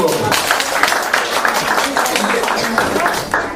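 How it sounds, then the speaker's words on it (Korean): A lecture audience claps together at a Bible-study talk, a dense steady patter of many hands filling the room for a few seconds with no voices over it. "잘했어요. 박수."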